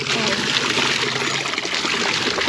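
Water running steadily from a tap, a continuous close hiss and splatter that stays loud and even throughout without pause.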